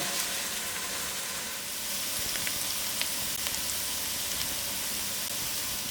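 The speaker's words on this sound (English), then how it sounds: "you'd put your curry leaf in now. And let them fry all together" Curry leaves frying in hot masala, a steady soft sizzle with faint crackles and pops throughout, close and fairly quiet.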